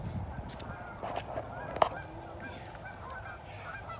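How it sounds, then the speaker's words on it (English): Geese honk in the distance, a few scattered calls over a low outdoor background. "I don't know, I hear the birds, but I don't see them."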